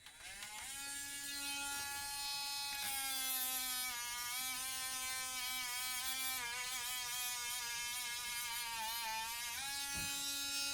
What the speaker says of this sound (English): a Amazon Basics mini grinder, rotary tool, cordless